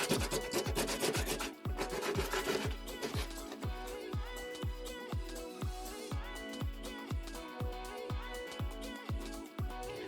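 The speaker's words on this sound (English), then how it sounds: "I'm just going to use a sander to try and get through" A sander works dried paint off a thrifted wooden bookcase, giving a close, steady rasping drone, then settling into regular rhythmic strokes, each pass a short pulse repeating about twice per second.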